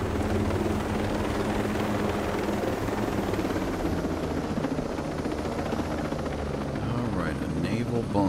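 Helicopter in the video game Ghost Recon Breakpoint, a steady loud rotor drone with low thudding throughout, continuous and close.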